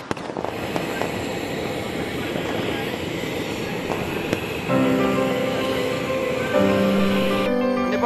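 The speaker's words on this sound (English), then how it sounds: "Airbus A330." A Nepal Airlines Airbus A330 airliner roars with a steady, loud broadband engine rush, then a strong whine of tones sets in partway through and rises as the jet sound builds.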